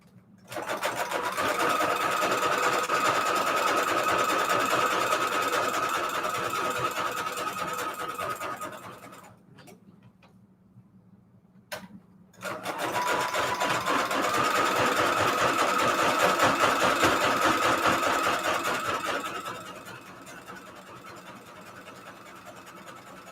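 A sewing machine stitching paper runs steadily, its motor humming and needle stitching rapidly, pausing briefly in the middle before resuming for a long stretch.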